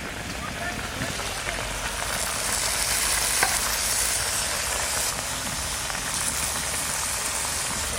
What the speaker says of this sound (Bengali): এবার শাকগুলো দিবি